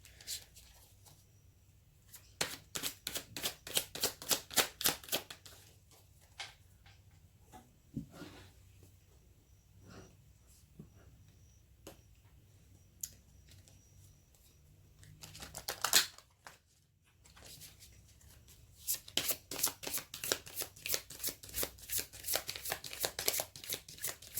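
Tarot cards are shuffled and drawn in bursts of rapid riffling and flicking, with quieter handling and shuffling in between and no speech.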